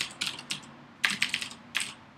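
Fingers tap out a few quick bursts on a computer keyboard, soft clustered clicks in short runs separated by brief pauses, quiet and close with no one talking.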